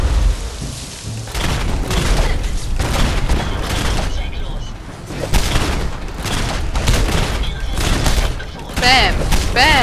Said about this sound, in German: Bam, der letzte Schuss.